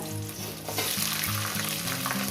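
Vegetables, including red and ordinary potatoes and stalks, are tipped into a hot frying pan, the sizzle swelling louder and denser as they land and fry with light stirring, close and without talk.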